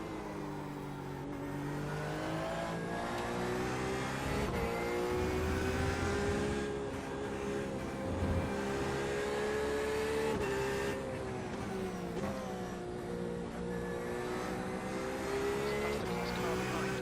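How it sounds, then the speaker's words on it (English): A fast race car engine in the iRacing 24-hour race at Circuit de Barcelona-Catalunya drones steadily throughout, its pitch rising and falling with gear changes, sounding close and continuous. "That's the fast car behind."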